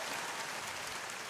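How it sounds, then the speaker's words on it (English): Applause on a talk radio broadcast for a caller, a dense, even wash of clapping that fills the whole moment without a break. "Give me some applause for Lynn"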